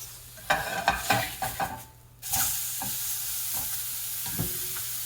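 Ahi tuna steak glazed with sauce sears in a hot pan, a constant close sizzle punctuated by repeated scraping and stirring knocks, with a short quiet dip before the frying hiss swells back up.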